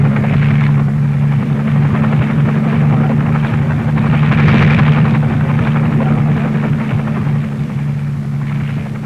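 Military helicopter of 1960 carrying a Little John rocket launcher and its prime mover slung outside, a steady, loud, droning rotor and engine roar holding level throughout, with no voices.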